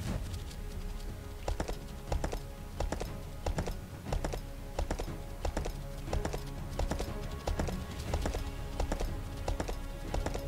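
Horse hooves clip-clop in a quick, steady rhythm in the video game Kingdoms, over a dense background din, continuous throughout without pause.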